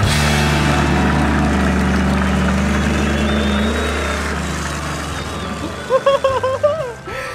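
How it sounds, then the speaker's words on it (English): Monster truck engines in the dirt, a loud low rumbling roar that holds steady and then gradually eases, ending with a few short bursts of a musical voice. "can you hear their engines are roaring so loud?"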